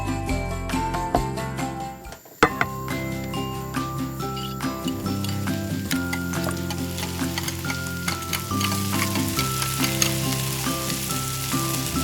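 Bacon fries in a pan with a steady, close sizzle and a crackle of spitting fat, broken by a brief stir or clatter near the start, then carries on evenly with no talk.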